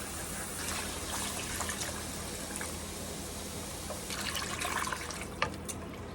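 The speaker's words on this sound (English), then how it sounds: "And then we'll add some water." Water pours steadily into a soup pot in a home kitchen, a continuous close splashing rush that gets slightly louder and more bubbly toward the end, with no talk.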